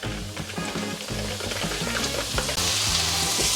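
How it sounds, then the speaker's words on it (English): Chicken and carrots sizzle and crackle steadily in a hot pan on a camp stove close by, with occasional stirring and a louder burst of frying toward the end. "Chicken and carrots are lightly frying now, which is great."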